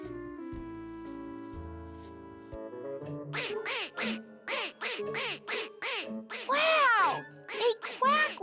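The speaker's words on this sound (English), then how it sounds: "They quack when I walk." Squeaky toy-like quacks from a child's novelty boots sound with each step, a brisk series of about a dozen bright, close quacks in a steady walking rhythm, following a stretch of cartoon music.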